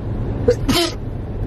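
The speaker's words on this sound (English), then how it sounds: "is your sneeze so loud?" A single short, sharp sneeze bursts out close by against a low background rumble, lasting well under a second.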